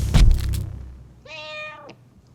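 A domestic cat gives a single drawn-out meow, fairly close and clear, following a brief dull knock and low rumble at the start.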